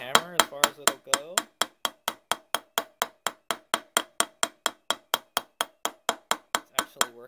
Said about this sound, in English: I'm just hitting it in with the hammer as far as it'll go.